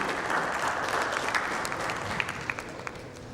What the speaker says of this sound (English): A big round of applause to Mr. Sobti